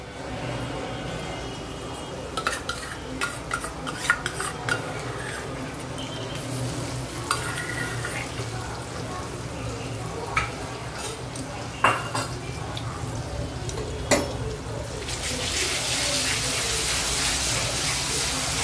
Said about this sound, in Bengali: এটা এবারে আমরা সমানে নাড়াতে থাকবো